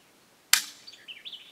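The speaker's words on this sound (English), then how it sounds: "I hate dry firing, but here we go, one more time" Dry firing a Mossberg LBA two-stage trigger gives one sharp, close metallic click, followed by faint chirps in the background.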